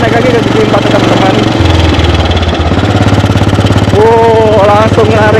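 A 1948 AJS 500 custom motorcycle's engine thumps loudly and steadily as it pulls in fourth gear, its low pulsing drone shifting pitch midway, with a voice talking over it.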